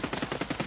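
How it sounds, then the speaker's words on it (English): Rapid video-game gunfire during a raid, a steady automatic burst of about eight evenly spaced shots in under a second, moderately loud with no voices over it. "No, somebody's shooting me."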